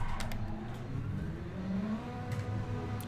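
Car engine in the racing game Assetto Corsa at the Australian GP F1 track, revving steadily for about three seconds with a continuous mid-pitched drone and light whine, fairly close and alone without talk.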